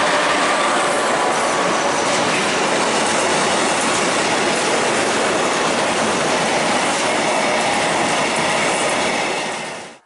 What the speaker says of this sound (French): j'ai pu y voir la 1338 tracter la rame TCA assurée par l'Ineas